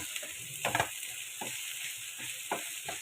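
Potatoes, onion and chili with salt fry in a pan, a steady sizzle broken by several short scrapes and clinks of a spoon stirring.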